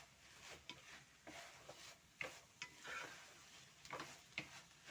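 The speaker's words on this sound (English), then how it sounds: "I'm going to stir" Stew of beef, potatoes and French beans stirred in a cooking pot, with repeated scraping strokes and a soft simmering sizzle, close and fairly quiet with no voices.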